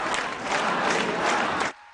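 A crowd at a ministerial inauguration ceremony applauds loudly and continuously, dense clapping with crowd noise that cuts off abruptly near the end.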